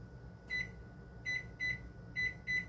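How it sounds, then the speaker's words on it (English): A kitchen oven timer chirps in short electronic beeps, one single then doubled pairs in an irregular run, faint and close over a low background hum as the timer is set. "We're going to set my timer"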